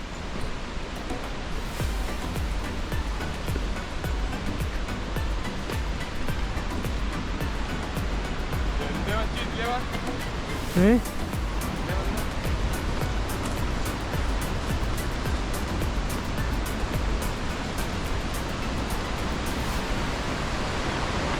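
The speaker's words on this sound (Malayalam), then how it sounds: "ഓസ്ട്രേലിയ ഏറ്റവും വലിയ വെള്ളച്ചാട്ടത്തിൽ" A continuous broadband rush of the Krimml Waterfalls in Austria fills the whole stretch, steady and enveloping, with a brief faint whistle-like tone partway through.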